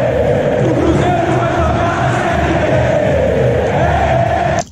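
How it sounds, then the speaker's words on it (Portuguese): Atlético Mineiro supporters chant together as a massed crowd in a stadium, a dense, continuous roar of many voices holding a steady sung line before cutting off abruptly at the end. "Por que a torcida do Atlético canta isso?"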